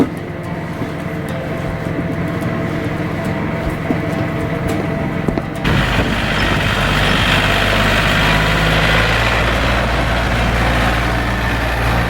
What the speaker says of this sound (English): You can hear the tractor in the background.